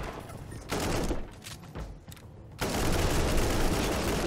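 Turret gunfire in Warhammer 40k: Inquisitor - Martyr rattles in dense, sustained bursts that drop away briefly and then resume louder and continuous, filling the mix with harsh, crackling noise.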